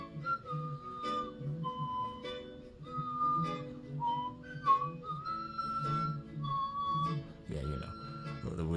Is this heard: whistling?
yes